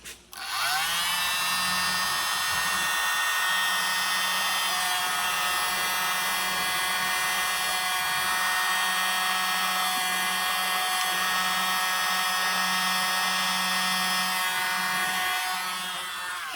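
A hair dryer blows across a fluid art galaxy paint pour, giving a continuous steady whirring rush that holds for about sixteen seconds at an even, fairly loud level.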